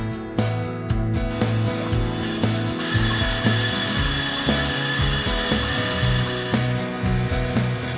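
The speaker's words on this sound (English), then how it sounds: "The EGX 360 will perform precise engraving along the curved surface of the bottle." A Roland EGX-360 rotary engraver spinning at about 12,000 RPM cuts into the curved glass of a wine bottle, a steady high whine and gritty scraping with rhythmic stepping of the motors, close and continuous.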